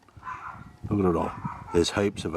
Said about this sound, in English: And my apologies for the dog next door,